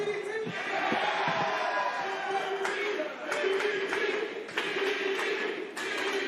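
A wrestling crowd at a live match between Fuego del Sol and Izzy James cheers and chants in a sustained roar, with rhythmic surges and occasional claps, while commentators talk over it.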